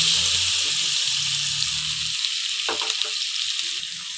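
Sliced onion frying in hot oil seasoned with black cumin (kalo jeera) for a Bengali fish dish, giving a steady close sizzle with a few soft stirring scrapes near the end, no talking.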